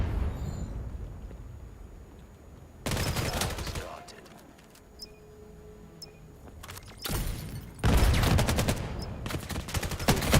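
Gunfire in the VR shooter VAIL during a competitive match comes in dense bursts of rapid shots separated by quieter stretches, loud and close, with a commentator speaking underneath.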